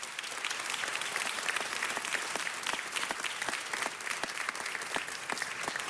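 Audience applause at a city council meeting, steady, dense clapping from many hands that fills the whole stretch at an even, moderate level without letting up.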